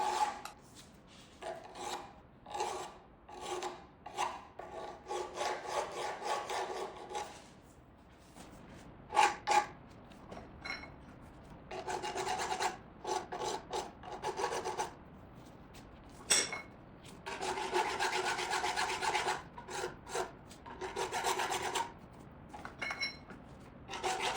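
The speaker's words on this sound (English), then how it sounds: "A traditional hand file is slow, but it gives you a great deal of control over the shape you are creating." A traditional hand file works a metal nut from a Zündapp KS 750 motorcycle, producing repeated close, rasping strokes in uneven bursts with short pauses between passes.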